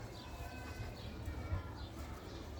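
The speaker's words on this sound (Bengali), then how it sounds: "তো এই যে কবুতরটা দেখতেছেন না" A pigeon gives soft, low cooing calls close by, a few quiet murmuring coos over faint background noise.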